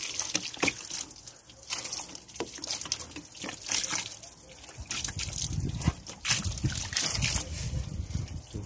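Water poured over a car engine after it has been sprayed with cleaning product, splashing and trickling in uneven bursts close by, with the flow growing heavier in the second half.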